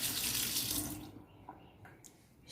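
A kitchen tap runs steadily into a sink, a close hiss of flowing water that stops after about a second, followed by faint clinks and quiet room sounds.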